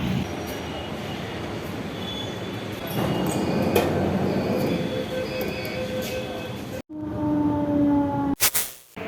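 A metro train in Delhi runs with a steady loud rail rumble and clickety-clack of wheels, and brief squealing tones appear as it moves. It drops sharply near the end before a burst of noise returns.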